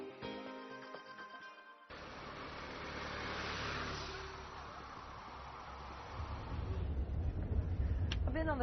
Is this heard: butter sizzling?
no